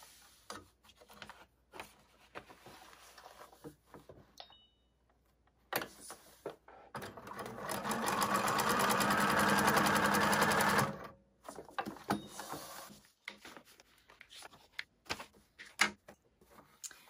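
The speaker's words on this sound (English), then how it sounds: "And I'm gonna sew that in place." A sewing machine stitching quilt block pieces for a pineapple foundation paper pieced scrap quilt, running in one steady buzzing burst of several seconds between quiet handling clicks and rustles.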